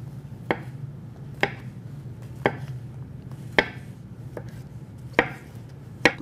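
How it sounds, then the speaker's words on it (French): A knife cuts small button mushrooms into rounds on a board, seven crisp, evenly spaced chops about a second apart, close and clear over a low steady hum. "on va récupérer nos petits champignons. Qu'on va également couper en rondelles"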